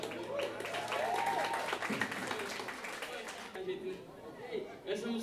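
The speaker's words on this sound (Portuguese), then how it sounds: "palmas pra galera" A crowd claps for a band playing an outdoor show in a town square, the clapping mixed with chatter and faint voices, and the applause fades after the first couple of seconds.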